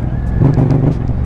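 Yamaha MT-07 twin-cylinder motorcycle lifting into a wheelie, a loud close engine drone with a short rise in pitch and throttle partway through, no voices.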